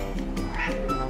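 A cat meows up close in a short, insistent cry, repeated in quick succession.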